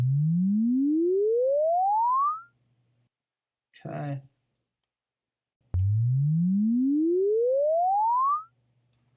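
A synthesized sci-fi effect: a pure sine tone sweeps steadily upward, breaks off, then repeats the same rising chirp after a brief spoken word, over a faint steady low hum.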